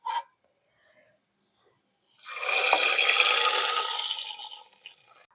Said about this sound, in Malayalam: അപ്പം നമുക്കിത് ഓഫാക്കിയിട്ട് നമ്മുടെ കറിയിലേക്ക് ഒഴിക്കാം